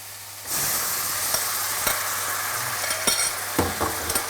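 Salted butter frying in a hot pan, a steady close sizzle that starts abruptly and continues throughout, with occasional clinks and scrapes from a utensil and no talking.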